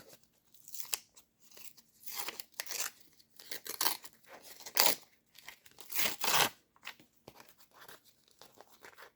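A small packet being carefully torn open in short bursts of crinkly ripping, close and quiet, with pauses between each tug and no talking.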